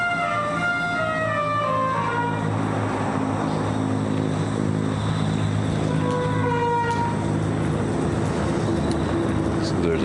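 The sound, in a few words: train passing by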